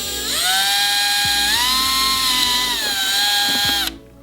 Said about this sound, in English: I'm going to drill my first hole right about here.